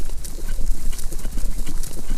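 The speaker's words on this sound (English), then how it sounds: "The horses." Horses' hooves clip-clop in a brisk, steady rhythm, loud and close, over a gritty outdoor ambience in a fantasy audio drama.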